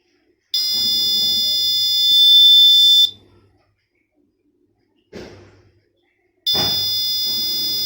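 A smoke detector alarm sounds in loud, steady high-pitched bursts. A long tone stops and a short buzz follows, then the alarm starts again, with no talking.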